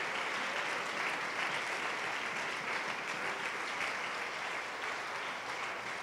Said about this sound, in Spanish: Dale un aplauso fuerte al Señor esta noche.